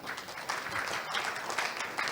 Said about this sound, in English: it is appropriate that we give ourselves a big round of applause